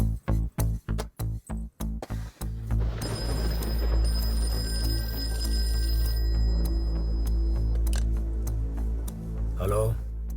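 A telephone rings in quick repeated pulses for about two seconds, then a sustained music bed with held tones takes over in a film comedy scene.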